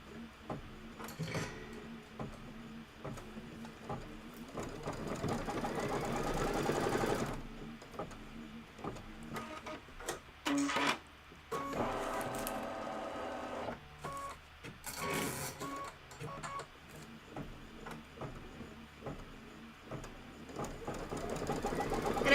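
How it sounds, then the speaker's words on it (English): A home embroidery machine stitching out trimming guides for a Kimberbell Cup of Cheer project, a fairly quiet, uneven mechanical whirring and tapping with pauses and louder spells over about twenty seconds. "stitch out the last step, which is going to be the trimming guides. I'm just going to hit start."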